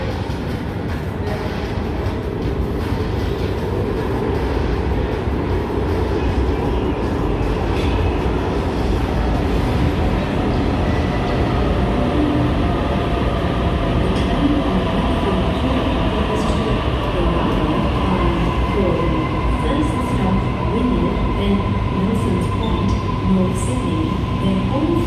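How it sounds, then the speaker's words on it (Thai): Riding inside a Sydney train rolling along the rails, a steady, loud rumble and rattle that continues throughout without pause. "นี่เขาอยู่ในรถไฟแล้วเนาะทุกคน"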